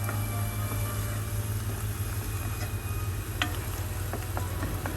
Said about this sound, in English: So help it a little bit by stirring.